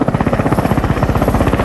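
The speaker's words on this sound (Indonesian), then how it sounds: "Joker dan Raptorman pun berangkat menggunakan helikopter" Military helicopter in the Vietnam War film Full Metal Jacket, a loud, steady rotor chop with rapid, even blade thumps and a continuous turbine roar filling the whole stretch.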